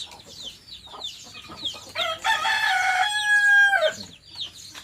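A rooster crows loudly nearby, its long strained call rising and then trailing off, with clucking and other bird calls scattered before it.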